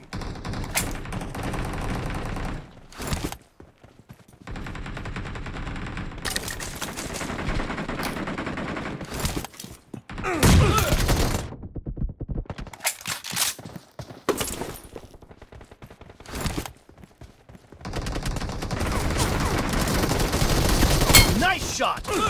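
Bursts of automatic gunfire in the battle royale game PUBG, loud and repeated in long dense stretches broken by short gaps, with rapid volleys crowding together near the end.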